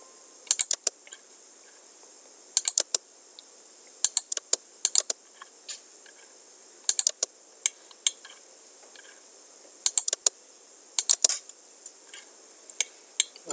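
Close computer keyboard typing for AutoCAD commands, short bursts of crisp key clicks separated by pauses over a quiet background hum.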